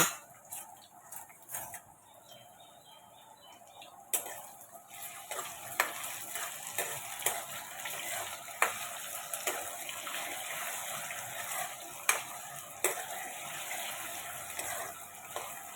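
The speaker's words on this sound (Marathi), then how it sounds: "आपल्याला बटाटे हे फ्राय करून घ्यायचे" Thin potato slices frying in an oily pan for sabudana khichdi, giving a steady close sizzle and crackle with occasional stirring clatter and sharp pops throughout.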